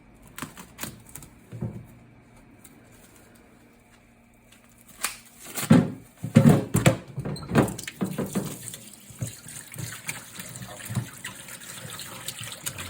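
Yari squid from Miyagi Prefecture, cut kikkogiri style, is rinsed under a running tap, with quiet splashes at first, then louder bursts of water and handling mid-way, and a steady gush continuing to the end.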